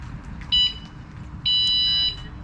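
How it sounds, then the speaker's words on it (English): Anti-theft alarm on an electric bike beeping, two loud high-pitched electronic bursts, a short one then a longer sustained one, close by with no talk. "I just alarmed the bike. I guess I better unalarm it."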